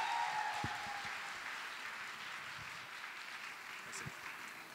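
A festival audience at a musical show claps in a dense, sustained wash of applause that stays fairly even throughout, with a voice speaking faintly over it.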